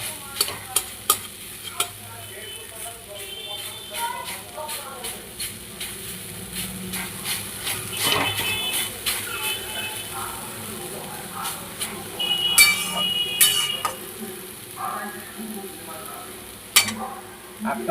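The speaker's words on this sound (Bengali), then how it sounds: "এরকমভাবে আপনারা ভাজবেন" Crushed lentil fritters fry in a wok with a steady, close sizzle and crackle, with occasional stirring clatter and a few sharp spatula knocks throughout.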